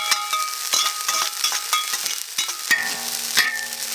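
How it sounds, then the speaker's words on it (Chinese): Washed preserved mustard greens are stir-fried in a wok, with a busy, steady sizzle and repeated scraping clatter from the spatula, loud and close with no talking. "再把洗干净的梅菜下锅炒"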